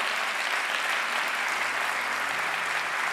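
A large church congregation applauds as people come forward at an evangelistic service with Nick Vujicic, a steady, dense roar of clapping hands that holds at an even loudness with no talking.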